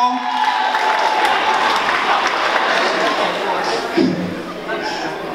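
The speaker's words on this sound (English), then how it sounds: "Y'all clap it up for my daddy, man." A comedy club audience applauds, loud sustained clapping mixed with some cheering and crowd chatter throughout, tapering slightly toward the end.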